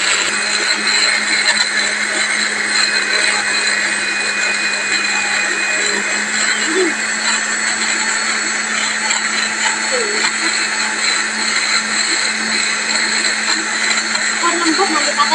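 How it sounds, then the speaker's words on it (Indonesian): A kitchen blender grinds spices with a steady, whining motor drone, loud and continuous, while voices talk faintly in the background. "Tak blender dipe bumbune."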